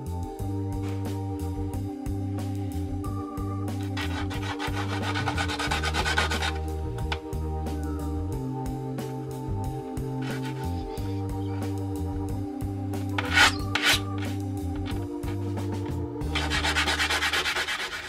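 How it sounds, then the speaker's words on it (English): An opal is rubbed by hand against wet 80 grit sandpaper, a continuous close gritty scraping in steady back-and-forth strokes, alone under a constant background hum. "we get it wet, and we start rubbing the opal against that 80 grit sandpaper"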